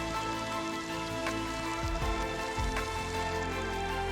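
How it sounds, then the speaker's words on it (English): Heavy rain pounds on the roof of a big RV parked on a hillside campsite in Utah, a dense steady roar with a low hum running through it and a few louder drops. "just in time for a downpour"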